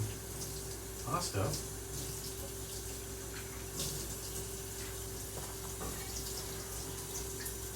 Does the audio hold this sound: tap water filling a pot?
yes